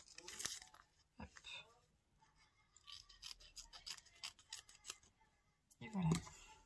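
Scissors cut a label off a reborn baby doll, giving a quick run of crisp snips and faint rustling, with a louder handling clatter at the end, all close and fairly quiet.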